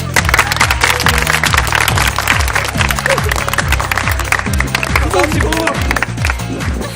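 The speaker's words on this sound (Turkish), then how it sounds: "erkeklerde kazanan grubumuzu alkışlıyoruz" Audience applauding the winning men's team at a spring festival contest, dense steady clapping throughout with music and voices underneath.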